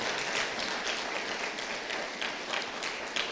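A church congregation claps together in praise during a Spanish-language service, a full, continuous wash of applause with slightly pulsing rhythm filling the room for a few seconds.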